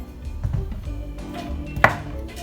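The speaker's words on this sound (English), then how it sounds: "That sound you hear in the background is Doodle finishing his bowl." A dog named Doodle finishes eating from his bowl in the background, making soft crunching and clinking sounds with one sharper knock against the dish, faint and close in a quiet kitchen.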